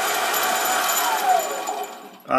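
A small mini lathe turns metal, removing about 40 thousandths per pass, giving a steady whirring machine drone with a faint rising whine before a louder burst right at the end.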